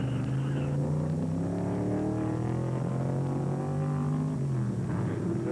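Several 1967 Trans-Am race cars, including Mercury Cougars and a Ford Mustang, drone loudly and steadily at speed, with overlapping engine tones rising and falling as the pack runs together and no voices.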